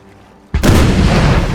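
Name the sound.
ship broadsides cannon fire in Napoleon Total War video game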